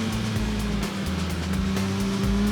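A motorcycle engine on a racetrack holds a steady drone on light throttle, its tone sliding slightly as it runs, loud and continuous with no talking.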